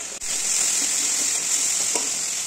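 Spice paste with pounded green chilies and three whole green chilies sizzles steadily in a pan while pabda fish curry is being cooked, a continuous close frying hiss with a couple of faint stirring knocks and no talking.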